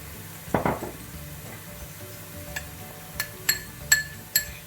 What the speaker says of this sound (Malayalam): ഇനി നമുക്ക് എടുത്തു വെച്ചേക്കുന്ന ബാക്കിയുള്ള ഇഞ്ചിയും വെളുത്തുള്ളിയും കൂടെ ഇട്ട് കൊടുക്കാമേ